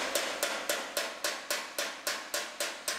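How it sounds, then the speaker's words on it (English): Hammer and dolly striking bent steel on a collision-damaged dump trailer fender, about ten sharp ringing metallic blows in a steady, evenly spaced rhythm, close and loud with no talking. "We bend it back, hammer and dolly it out."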